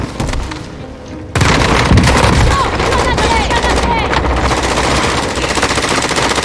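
Rapid automatic gunfire rattles through a match of Call of Duty: Warzone, with dense bursts and booms that turn suddenly loud after a quieter opening second, as players talk over the shooting.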